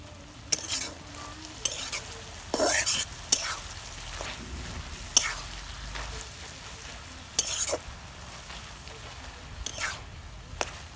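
Banana stem and ginger frying in a pan, stirred with a spatula: a soft steady sizzle broken by several sharp scraping strokes across the pan, close and fairly loud, with no talking.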